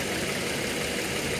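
A car's engine idles steadily during air-conditioning compressor troubleshooting, a constant close mechanical hum with no change in pitch and no talk over it.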